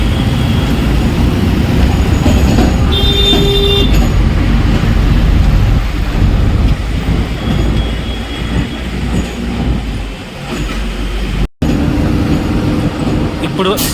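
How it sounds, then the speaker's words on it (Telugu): A train passes through Bengaluru Cantonment railway station with a loud, continuous rumble of rolling wagons and a brief wheel squeal, while a voice talks over the noise. "ఇప్పుడు మనం ఉన్నది వచ్చేసి బెంగళూరు కంటోన్మెంట్ రైల్వే స్టేషన్"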